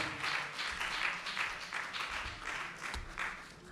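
A crowd applauds continuously at a French television news presentation contest, a dense patter of clapping that pulses slightly in waves, fairly loud and without talking.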